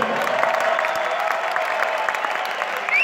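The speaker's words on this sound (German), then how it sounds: "ich hätte ganz gerne ein bisschen Applaus für die zweite Runde" Sustained applause from a large crowd at an MMA event in Berlin, dense and steady throughout with a faint cheer rising near the end.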